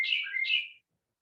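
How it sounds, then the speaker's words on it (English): A bird outdoors sings one loud, bright chirping phrase of two warbling notes lasting under a second, then silence. "That was a bird outside. I don't know what kind. It was singing pretty loud."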